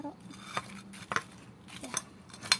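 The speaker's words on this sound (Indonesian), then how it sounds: "Sekarang ayam gorengnya tinggal ditaruh" Fried chicken for ayam geprek being set on a plate: a few sharp clinks and taps of crockery and utensils, spaced irregularly, close and fairly quiet.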